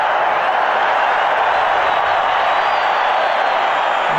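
A large rugby stadium crowd at a South Africa versus Australia match roars loudly and steadily, a dense wall of cheering that never lets up.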